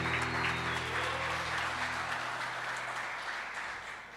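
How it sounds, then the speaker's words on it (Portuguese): A congregation at a church service gives a strong round of applause, a thick, continuous burst of clapping with a low hum beneath that eases slightly toward the end. "dá um forte aplauso ao Senhor Jesus"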